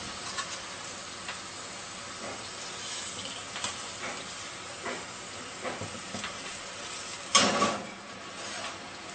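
Meat sizzles steadily on a grill rack while it is turned and basted, a continuous hiss with soft crackles and one louder burst of spitting near the end.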